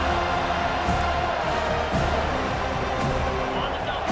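A simulated stadium crowd in the EA Sports College Football 25 video game keeps up a steady, dense roar beneath a commentator's play-by-play voice.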